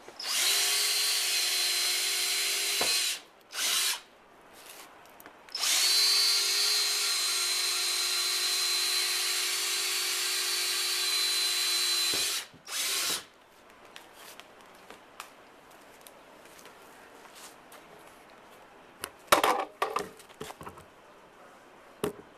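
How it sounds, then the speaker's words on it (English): A power drill with a 1/2-inch bit whines loudly in two long bursts with short pauses as it drills air holes in a plastic compost bin, then quieter scraping and rattling of plastic follow. "you're going to drill holes all around it for air"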